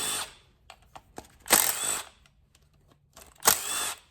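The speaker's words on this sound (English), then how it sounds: "let's take the rest of these 3 long bolts out" A power tool spins out long bolts from an Audi 2.0T engine in short whirring bursts, two loud close runs separated by quieter clicks and rattles.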